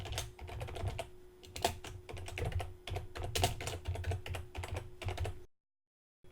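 Rapid typing on a computer keyboard, close and fairly quiet, with a quick irregular run of key clicks over a low background hum, then a sudden cut to silence near the end.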